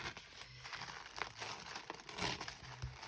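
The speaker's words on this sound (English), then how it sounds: "The reason I'm tearing it rather than trying to cut it" Paper is torn by hand, an envelope pulled up and ripped rather than cut, giving a close, steady crinkling and crackling with short sharper bursts over about three seconds, no voices.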